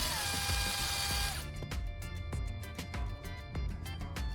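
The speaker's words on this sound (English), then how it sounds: "I'm inserting it into my drill and spinning it against a piece of sandpaper." A power drill spinning a carbon rod against a piece of sandpaper, first a bright continuous whir that stops abruptly, then a run of sharp rhythmic clicks and scraping ticks, close and fairly quiet.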